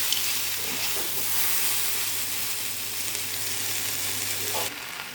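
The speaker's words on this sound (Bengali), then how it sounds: "ভাজা ভাজা হোক ভালো মতো।" Taro stolons frying in a pan with a pinch of sugar, sizzling steadily up close while being stirred, with occasional scrapes and a brief clatter near the end, no voices.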